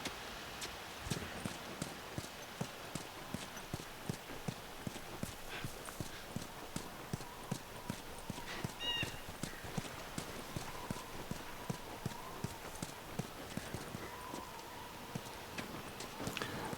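Horse hooves clip-clop in a steady walking rhythm throughout, moderately close, with faint background ambience and no speech, from the video game The Last of Us Remastered.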